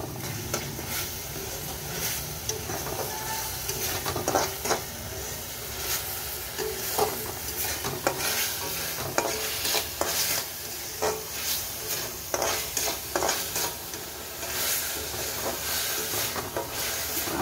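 Prawns and pointed gourd frying in a curry, a continuous sizzle and hiss under repeated scraping strokes of a spatula against the pan, growing more rhythmic toward the end, with no voices.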